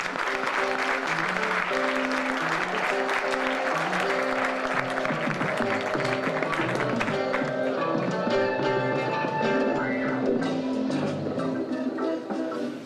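An audience at an awards gala applauds steadily as keynote speaker Tony Hooper is welcomed, continuous dense clapping blended with upbeat walk-on music throughout.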